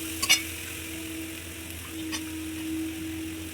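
Shredded cabbage is dropped into a hot tawa for Bengali-style vegetable pulao, giving a low, steady sizzle with a brief clatter of stirring near the start and a faint background hum.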